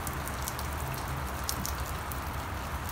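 Steady rain patters on surfaces close by, with scattered sharper drops ticking over a dense hiss.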